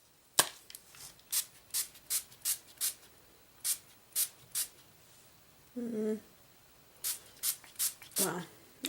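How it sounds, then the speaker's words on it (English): Gold spray paint hisses from an aerosol can in a rapid series of short, sharp bursts at desk-side distance, followed by a pause with a brief low clatter and then several more bursts. "now that I've sprayed everything on my desk in gold"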